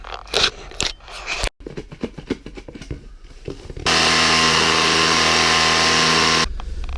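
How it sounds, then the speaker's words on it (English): Chipping and scraping at a hole dug for a new water main, a run of sharp irregular knocks followed by a loud, steady power-tool whine that holds for a few seconds, then stops. "So slowly but surely we'll just have to keep chipping away."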